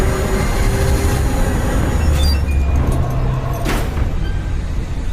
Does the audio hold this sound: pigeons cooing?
no